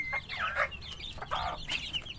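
Chickens cluck and squawk in a steady, busy chatter while eating at a home in Indonesia, several birds close by with overlapping calls and no talk.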